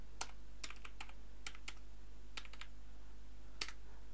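Keys tapped on a computer keyboard to enter a passport expiry date into an online registration form: short, irregular clusters of light clicks with pauses between, close and quiet over a low steady hum.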